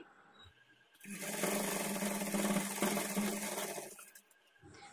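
Sewing machine stitching along the folded edge of a plain blouse, a steady whirring run of about three seconds that starts abruptly, holds loud and even, then winds down, with quiet room noise before and after.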